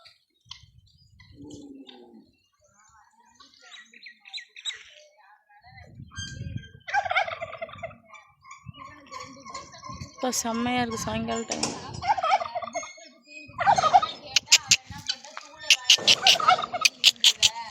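Turkeys gobble in repeated rattling bursts, growing louder toward the end, while a person talks quietly in between.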